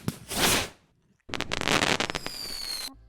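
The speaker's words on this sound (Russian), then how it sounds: "Кстати, специально умышленно добавил сюда фейерверки" Fireworks and firecracker bursts made as a game sound effect: a short crackling blast, a brief pause, then a louder dense volley of pops and crackles with a rising whistle-like tone before it cuts off.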